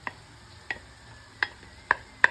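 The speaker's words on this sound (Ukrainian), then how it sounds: "Помішуючи, продовжуємо смажити до м'якості моркви." Diced onion and coarsely grated carrot fry in a pan while being stirred, giving a quiet sizzle with five sharp spatula scrapes and clicks spaced irregularly across two seconds, no talking.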